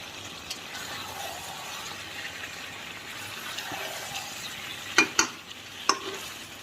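Curry being sautéed in a pan, a soft low sizzle with light stirring, then a few sharp clinks of a utensil against the pan near the end.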